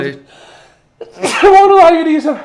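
A single loud, close sneeze bursts out after a person speaks briefly, sharp and breathy with a voiced tail.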